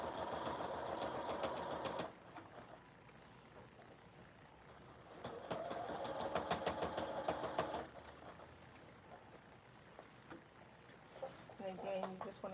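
A sewing machine top stitches a collar stand seam in two bursts of rapid, buzzing mechanical stitching, close and loud, separated by quieter pauses with someone speaking.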